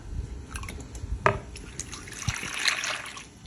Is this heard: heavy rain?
no